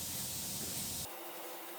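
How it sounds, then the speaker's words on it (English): A spray can hisses out weld-through primer onto a 2020 Toyota RAV4 XSE hybrid body panel, one steady close burst for about a second before it cuts off, leaving a faint background. "we'll allow Scott to do the only painting he's allowed to do with a spray can"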